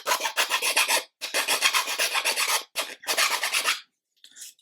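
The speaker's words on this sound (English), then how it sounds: "we can just go in with a round file" A round file rasps back and forth across a wooden display stand part for a 1/80 scale model ship, giving loud, close strokes in several runs separated by short pauses, with a faint scrape at the end.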